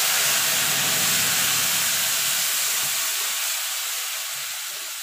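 Whole spices and ground spice paste sizzling in hot oil for a vegetarian chana masala made without onion or garlic, a loud steady hiss that fades slightly toward the end, with no voices.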